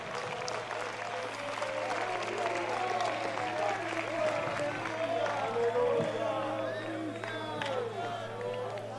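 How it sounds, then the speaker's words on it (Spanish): A crowd at a church youth convention applauds steadily for several seconds, a dense wash of clapping with indistinct voices mixed in. "Dele un aplauso de gloria a Dios."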